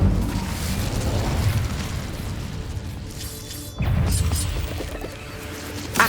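Incendio fire spells blast in the Hogwarts Legacy game, producing loud, roaring bursts and crashing impacts that churn continuously, with a fresh surge of booming noise partway through.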